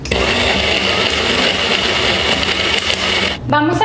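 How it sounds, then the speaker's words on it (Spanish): A blender crushing ice for a frappé runs loud and continuous with a harsh grinding roar, then cuts off near the end as a voice begins. "Vamos a verificar que nuestra licuadora muela con facilidad"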